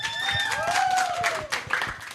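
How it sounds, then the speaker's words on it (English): An audience applauds at a Leon Kilat commemoration event, with scattered clapping running under sweeping whistle-like tones and a bit of voice. "Come on, big round of applause"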